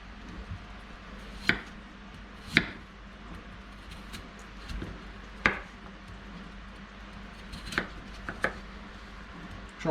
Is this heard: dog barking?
no